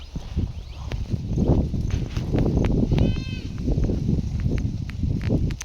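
Young lambs bleat with a short, high call near the middle, over a steady bed of shuffling, hoof steps and farmyard rustling from nearby livestock.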